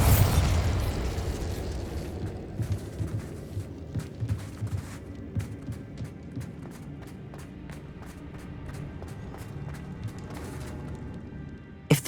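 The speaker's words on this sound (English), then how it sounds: "Incendio. Bombarda." Fantasy spell blasts from the Incendio and Bombarda charms in Hogwarts Legacy, opening with a heavy booming burst followed by a series of sharp crackling pops and scattered debris hits that fade before a final loud crack.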